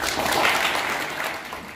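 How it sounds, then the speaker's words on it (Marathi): A school audience claps for a martial arts instructor at a taekwondo, karate and boxing demonstration event in Maharashtra, the applause sustained and fairly loud for the whole moment, then tapering slightly toward the end. "आदरणीय खताळ सरांसाठी एकदा जोरदार टाळ्या झाल्या पाहिजे"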